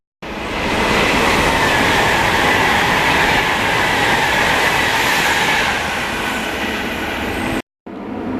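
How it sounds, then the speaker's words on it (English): A Virgin Trains Pendolino passes through Bletchley station, a loud, sustained roar and rushing hiss of the train going by close for several seconds, ending abruptly. "Now passing through is Virgin Trains Pendolino."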